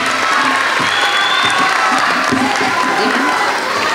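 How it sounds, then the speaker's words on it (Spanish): A large outdoor crowd at a Three Kings proclamation event in Fuenlabrada claps and cheers loudly and continuously, a dense roar of applause with shouts and children's voices mixed in. "Fuerte abrazo y fuerte aplauso para los reyes"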